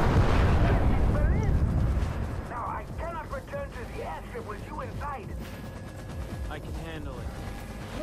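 A loud, booming detonated explosion in Far Cry 3 rolls out at the start and fades into rumbling debris, followed by voices talking over continuing game noise.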